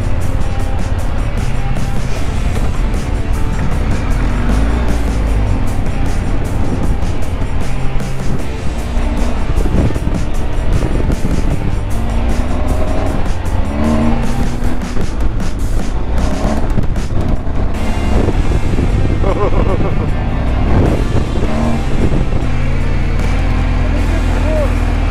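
A 2022 Honda Goldwing motorcycle rides off-road across desert ranch land, a loud continuous engine rumble mixed with heavy wind buffeting, and a rider's voice breaks in partway through.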